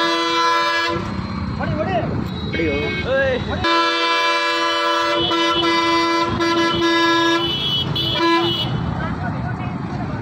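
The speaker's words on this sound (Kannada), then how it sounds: "ಹೆಂಗಿದೆ ಹಾರ್ನು?" A school bus horn blares in repeated loud bursts of sustained, tonal honking with short breaks between them. Voices and traffic noise carry underneath.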